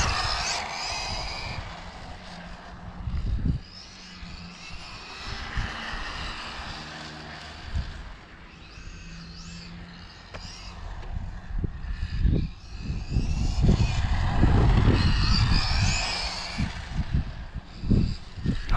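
Carten T410R RC car with a 4000KV motor driving outdoors, a whining electric motor rising and falling at a distance under heavy wind buffeting on the microphone, with no talk.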